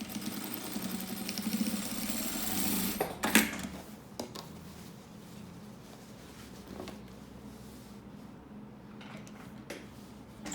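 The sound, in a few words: sewing machine stitching milk cartons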